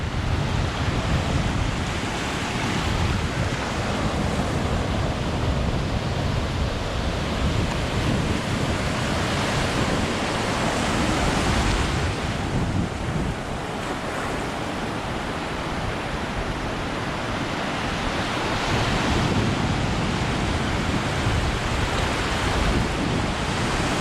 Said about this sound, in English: Wanted to give you a few moments of silence of the ocean sounds.